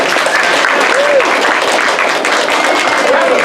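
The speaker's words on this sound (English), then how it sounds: "Give her a wonderful round of applause." Loud, sustained applause from an improv comedy show audience, with thick continuous clapping and a few faint whistle-like tones riding over it.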